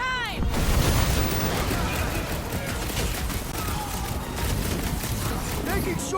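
Fireworks explosions and combat din from Guardians of the Galaxy, a dense, continuous barrage of booms and crackles, loud and close, with a few short whistling tones at the start and end.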